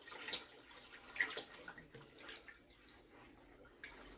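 Cornstarch mixture poured into water, a soft continuous watery trickle and splash with faint drips, fairly quiet and unbroken for several seconds.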